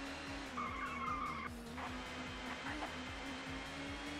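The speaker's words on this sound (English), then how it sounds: "Doing a lot of super drifting on this one." Touring car tyres skid and squeal while drifting on the Croft circuit in ToCA Touring Car Championship, with a steady high screech running over a droning engine note that holds loud throughout.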